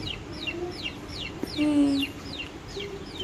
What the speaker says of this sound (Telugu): కోడిని పట్టుకుందిరా